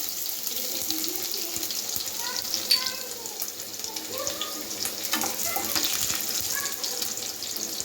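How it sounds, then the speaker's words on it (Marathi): Garlic is dropped into a hot pan for vegetable fried rice and sizzles. A steady, close crackle with scattered pops and spits continues throughout, with no voices over it. "चला आता आपण लसूण टाकूया."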